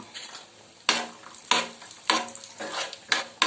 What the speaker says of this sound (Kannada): ಜಸ್ಟ್ ಒಂದು ಚೂರ ಫ್ರೈ ಮಾಡಿಬಿಟ್ಟು ನಾವು ತುಪ್ಪದಲ್ಲಿ ಹಾಕಿದ್ರೆ ತುಂಬ ಚೆನ್ನಾಗಿರುತ್ತೆ